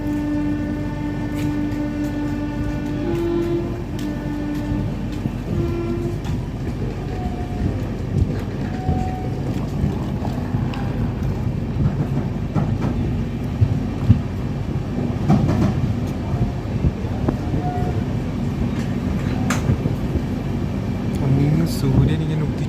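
The Kannur–Yeshwantpur Express runs on past Hosur station, with a continuous rumble and clatter of carriages, drawn-out horn tones early on and occasional faint background voices.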